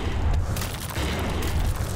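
Shooting at bats in the video game UnEpic produces repeated muffled booms and shots at a low level, with a rough, continuous rumble between the hits.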